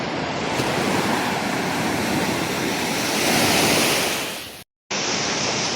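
Steady roar of ocean surf washing in at La Union, Philippines, loud and close, with a swell near the end before a brief dropout.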